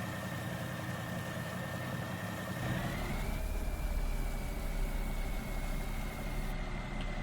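A tractor engine idles steadily in Farming Simulator 19, a continuous mid-low drone with a faint whine that rises slightly in pitch about three seconds in, then holds even and close with no talk.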